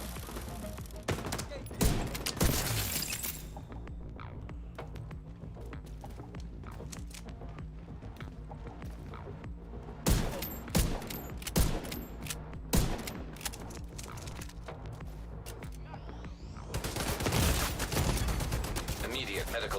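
Exotic Sheriff shotgun fire in The Division 2, loud blasts in scattered bursts mixed with other gunfire and mechanical clatter, with quieter stretches between volleys.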